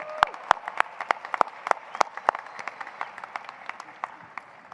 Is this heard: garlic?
no